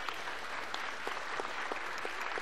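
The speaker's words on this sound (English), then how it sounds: "And a round of applause from the fans in attendance." Fans in a gym at a women's college basketball game applaud steadily, a dense wash of clapping from a moderate distance that holds level across the whole moment without talk.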